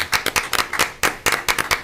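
Audience applause at a school board meeting honouring three educators: a short burst of hand claps in an uneven rhythm, fairly close and clear, with no talking over it.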